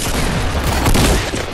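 A dense, loud burst of overlapping gunfire from a shooter game, with rapid shots blending into a continuous crackling roar that lasts throughout the short moment.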